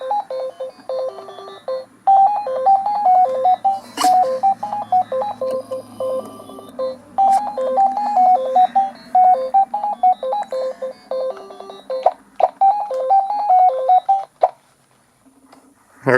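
Tinny, beeping handheld chiptune music from Duke Nukem 3D on the Game.com, repeating a short square-wave melody loop with brief pauses and a few clicks.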